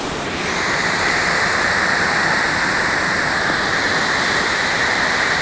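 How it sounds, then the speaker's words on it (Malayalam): Loud, constant rush of a rain-swollen stream, a dense unbroken roar close by with no voices. "മഴ പെയ്ത ഭയങ്കര തോട്ടിലെ വെള്ളമാണിത്"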